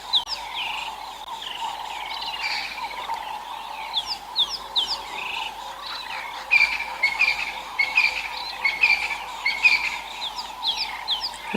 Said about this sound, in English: The dawn chorus is always something very, very special out here.